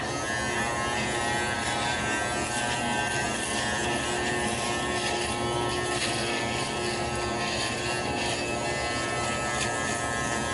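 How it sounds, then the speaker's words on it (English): A small pocket-size electric shaver runs steadily with a continuous close buzzing whir that holds at one level, with no pauses and no voices. "a little pocket size electric shaver"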